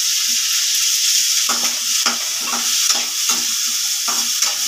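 Finely chopped potatoes fry in a pan for poha, giving a continuous bright sizzle broken by repeated rhythmic scrapes and stirs, close and fairly loud, with no voices.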